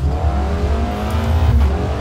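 Race car engine drone with tires in Forza Motorsport 2023, a tuned car with upgraded suspension and engine, holding a steady loud roar with slight rises in revs throughout, alone without talk.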